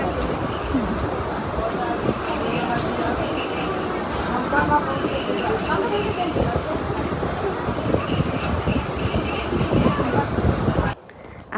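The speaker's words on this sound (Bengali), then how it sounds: "আমাদের দিকে ট্রেন যেহেতু একদম হালকায় থাকে, তারপরে এটা ছিল রানাঘাট লোকাল, একদমই হালকা।" A lightly crowded Ranaghat local passenger train running, with a continuous close rumble and rattle of the carriage under scattered voices, cutting off abruptly just before the end.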